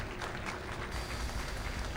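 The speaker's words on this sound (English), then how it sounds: "Can we get a round of applause for this man here?" A live audience at a speedrunning marathon event claps steadily, producing dense, continuous applause throughout with no clear voices on top.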